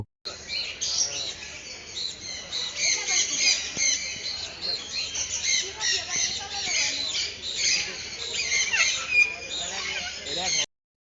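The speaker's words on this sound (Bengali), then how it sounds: "রাজকীয় ভঙ্গিতে দাঁড়িয়ে থাকা কাকাতুয়া তার সাদা পালক আর মাথার উপরের হলুদ পালকের মুকুট" A cockatoo at a national livestock exhibition gives repeated harsh squawks and chirps, loud and close, over a busy background of other bird calls.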